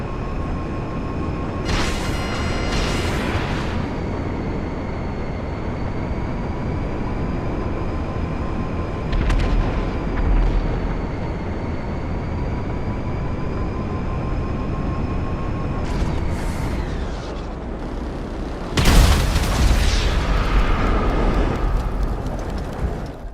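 Missiles fired from a Deluxo at a P996 Lazer jet in GTA 5 Online: a steady loud jet roar with sustained engine whine, broken by a couple of sharp launch or explosion bursts near the end.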